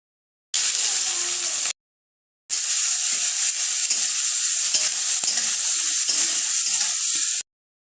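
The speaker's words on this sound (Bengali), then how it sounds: "এবার আমি সবজিগুলো তেলের ভেতরে ছেড়ে দেবো। সবজি আমি একবারেই তেলের ভেতরে ছেড়ে দেবো।" Vegetables hit hot oil with mustard seeds and dried chilies, giving a loud, steady hissing sizzle close by, broken once by a short gap of silence before resuming.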